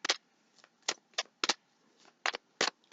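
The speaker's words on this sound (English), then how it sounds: "Let's do some shuffling." Tarot cards are shuffled by hand in a quiet room, giving a series of about ten short, crisp riffling bursts in an irregular rhythm, close and clear with no talking.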